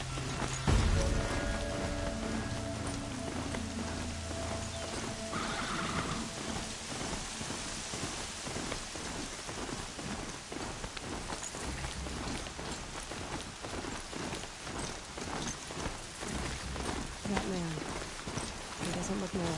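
Heavy rain pours in Horizon Zero Dawn while a horse's hooves clip-clop in a steady rhythm, the downpour constant and loud throughout, with voices speaking over it.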